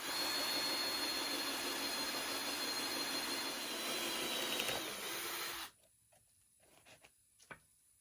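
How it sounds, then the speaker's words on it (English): A power drill whines steadily and loudly for several seconds while drilling holes in wood for a hanging planter, then stops, leaving quiet room noise with a few light knocks and taps. "I'm going to drill one here"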